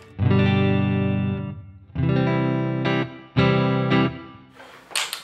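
A Fender Modern Player Telecaster Plus electric guitar, played with no pedals or noise gate, strums three sustained, distorted chords, each ringing out before the next, followed by a brief scratchy string noise.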